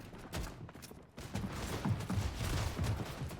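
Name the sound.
double pump SMG gunfire in a video game, likely Fortnite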